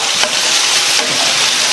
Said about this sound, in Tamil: மீடியம் ஃப்ளேமில் 4 இருந்து 5 நிமிஷத்துக்கு இந்த காலிஃப்ளவரை எண்ணெயிலேயே வதக்கி கொடுங்க